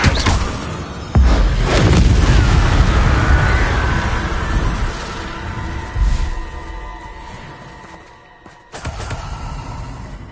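Booming spell blasts and fiery bursts from the Hogwarts Legacy video game on PS5, loud impacts followed by rumbling, crackling tails and tonal magic whooshes, several hits across the stretch.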